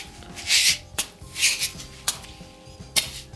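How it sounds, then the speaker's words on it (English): Sand-filled Russian juggling balls in a three-ball pattern give soft, dull thuds and gritty rustles as they land in the hands, several catches in an uneven rhythm, close and quiet. "these are called Russian balls. They're filled with sand, which is cool because they give you a nice little sound effect"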